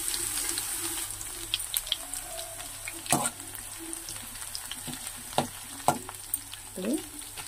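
Crushed garlic cloves fry in hot oil for a cauliflower chutney, a steady close sizzle broken by several sharp clinks and scrapes of a spoon stirring in the pan, with no talking.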